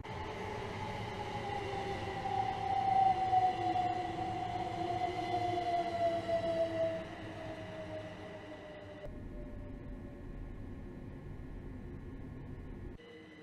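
A train in Train Simulator Classic pulls into Selling station on the Chatham Main Line from Faversham toward Dover, a steady rolling rumble with a long falling brake squeal, then a quieter idling hum once it stops.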